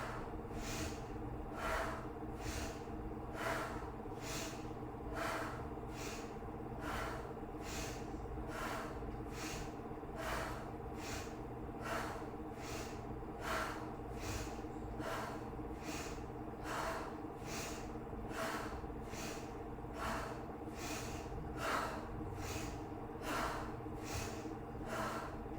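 Steady rhythmic breathing during a vibration plate yoga sequence, repeated short sharp breaths roughly every second through the whole stretch over a constant low machine hum, with no talking.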